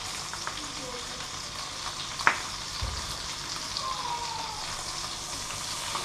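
Trout frying in a pan with butter spooned over it, a steady close sizzle and crackle throughout with one brief sharp tap partway through.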